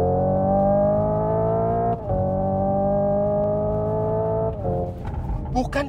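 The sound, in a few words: Hyundai Ioniq 5 N drifting on a race circuit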